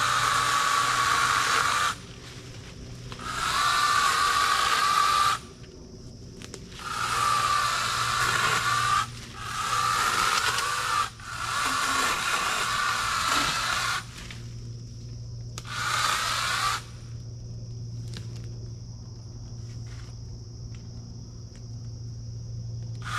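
Cordless Dewalt 60-volt chainsaw or 6-inch pole saw cutting poplar tree branches, loud whining motor in several long bursts with pauses, close by over a steady hum.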